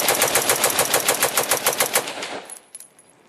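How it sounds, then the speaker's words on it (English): A Rock River Arms Coyote rifle fires a rapid string of about twenty evenly spaced, loud gunshots for roughly two and a half seconds, then the burst stops and a brief ringing echo fades out. "I'm going to go ahead and rapid fire it."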